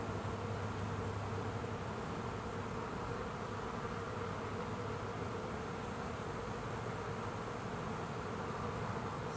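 Honeybees buzz steadily and densely around a solid brood frame lifted from a Layens hive, a continuous close, even drone with no talk.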